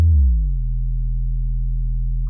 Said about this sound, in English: It's a normal sine wave with added harmonics in operator